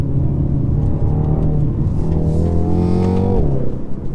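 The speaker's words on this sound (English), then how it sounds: "Good response from the engine as well." A 2020 BMW X2 M35i engine pulls hard under acceleration, its loud, steady drone climbing in pitch and then dropping sharply near the end as a gear shift lands, with no talking over it.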